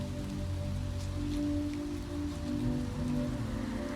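Steady rain falling on a New York City night, a continuous soft hiss of drops with a low rumbling background, even and unbroken with no voices.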